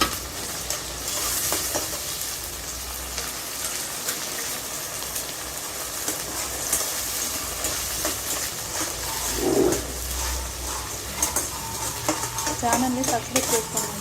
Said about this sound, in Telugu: టమాటాలు ఉల్లిపాయ మిక్సీ పట్టాను కదా అది వేస్తాను.